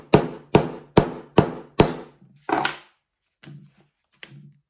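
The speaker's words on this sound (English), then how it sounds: "I'm just going to hammer." Hammer strikes drive a rivet into a leather shoulder bag: five sharp, evenly spaced blows, then a duller hit and two faint taps, each ringing briefly.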